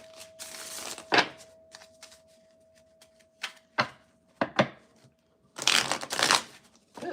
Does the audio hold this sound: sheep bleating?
no